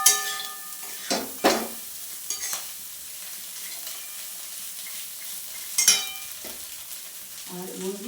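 Fried egg, onion, cashews and raisins being stirred in a pan: a few sharp spatula scrapes and knocks over a soft, steady frying hiss, with a brief louder sizzle near the end.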